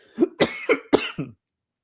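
A series of five short, sharp coughs in quick succession, close and fairly loud, then silence.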